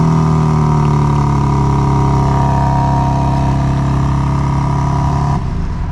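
A 2024 BMW M4 Competition Convertible remote-started by key fob, its engine settling into a loud, steady idle with a deep, constant rumble that drops off abruptly near the end.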